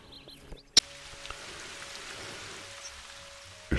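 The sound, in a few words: rain in the video game theHunter Call of the Wild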